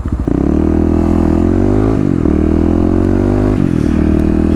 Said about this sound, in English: Getting those crisp downshifts.